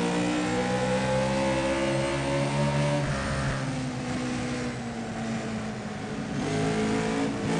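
Race car engine heard onboard the race leader's car at Bristol, a loud sustained roar with rising and falling revs, close and steady throughout without speech.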